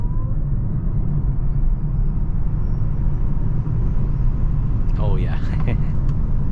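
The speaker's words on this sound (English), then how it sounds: "let's go ahead and do an acceleration right here" A Hyundai Ioniq 6 electric car accelerates on a highway, giving a loud, steady road and tire rumble with a faint rising whine, while someone briefly speaks near the end.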